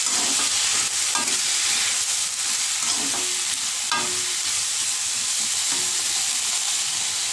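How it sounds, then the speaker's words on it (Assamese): Chopped capsicum and cabbage sizzle steadily in a hot pan, a loud, continuous frying hiss broken by occasional stirring scrapes, up close and without speech. "আৰু এইখিনি এতিয়া মই অলপ দেৰি ভাজি ল'ম।"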